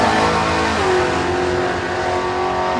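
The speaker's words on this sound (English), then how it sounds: "The street race big block Colorado Nova goes 107 in the 8th, and Monast goes 10:20 at 131" A street-race big-block Chevrolet Nova hot rod at a drag racing event, its engine roaring loud and close with a rising, sustained tone over a few seconds, no voices present.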